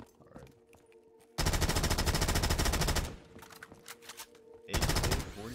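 AK-47 gunfire in Call of Duty custom zombies on the Terminal map, loud sustained automatic bursts up close, one long burst then a shorter one after a pause, with game noise between.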